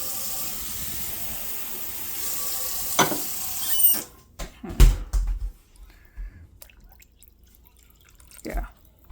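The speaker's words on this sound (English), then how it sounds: "I might add another half can of water." Water poured from a can into a pot of homemade chili gives a splashing, gurgling run of a few seconds, then fades to a few scattered clunks and stirring sounds.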